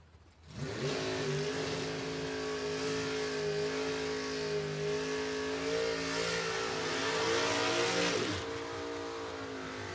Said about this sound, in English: Love these big old burnouts. Nothing like a DoorCar burnout.